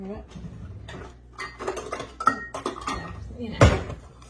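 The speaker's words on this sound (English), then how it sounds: "now we're going to stir in the flour mixture" Spoon clatters and scrapes against a bowl as flour mixture is stirred into coconut fruitcake batter, a series of close, uneven clinks building to one sharp knock near the end, with faint talk underneath.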